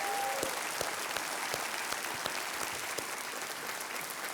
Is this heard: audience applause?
yes